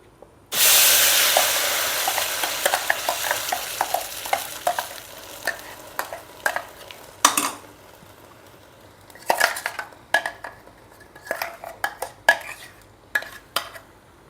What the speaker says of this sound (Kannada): ಅದಕ್ಕೆ ಈ ರುಬ್ಬಿಟ್ಕೊಂಡಂತಹ ಮಸಾಲೆನ ಹಾಕ್ತಾ ಇದ್ದೀನಿ.